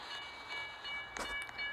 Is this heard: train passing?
yes